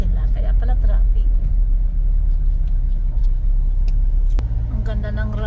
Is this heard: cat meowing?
no